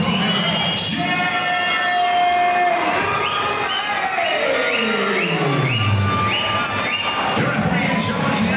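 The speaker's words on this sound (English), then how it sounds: "Cheer, ladies and gentlemen, please welcome Sheldon." A crowd at an FCC 26 cage fight event cheers loudly and continuously as a fighter is introduced, with an announcer's voice and tonal arena music mixed in.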